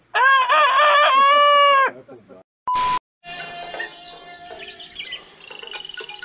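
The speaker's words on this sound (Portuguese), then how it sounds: "o galo cantou" A rooster crows loud and near, one long strained cock-a-doodle-doo, followed by a burst of other noise and then busy outdoor sounds with chatter and chirping at a community gathering.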